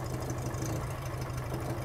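A restored Allett Mk1 petrol lawn mower engine idles steadily, a continuous low rumbling drone at an even level with no talking.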